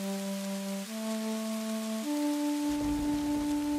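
Steady rain hisses throughout an animated ghost story scene, an even wash of falling drops beneath sustained musical tones.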